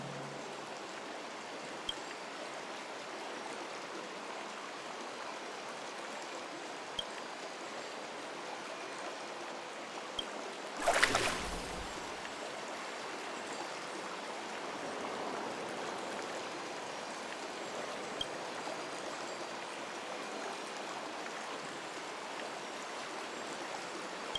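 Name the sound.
flowing water in bath, from video game Honkai Star Rail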